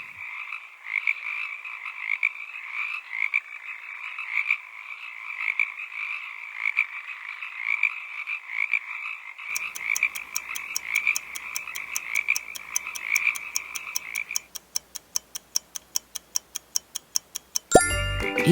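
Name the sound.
frog croaking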